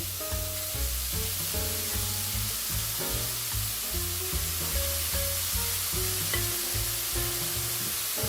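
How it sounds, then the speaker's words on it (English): Seasoned cauliflower rice frying in a wok, a constant loud sizzle with scraping stirring strokes repeating through it, close up and without talking. "So we're just going to go straight in with our cauliflower."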